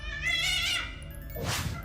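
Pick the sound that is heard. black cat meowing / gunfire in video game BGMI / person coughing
black cat meowing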